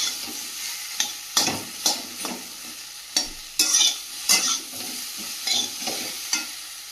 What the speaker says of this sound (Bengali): আলুটা বেশ ভালো করে কষিয়ে নিয়েছি